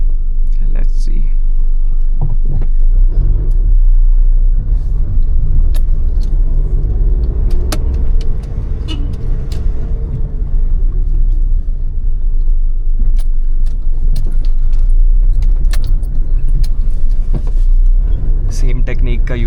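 Steady low interior rumble of an Alto K10 car driving along a narrow mountain road in Shimla, a continuous engine and road drone throughout with small clicks and rattles, a voice speaking quietly over it.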